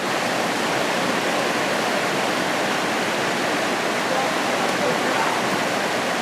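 Water of the Jackson River rushes in a steady, loud, unbroken roar close by, with no pauses or distinct splashes.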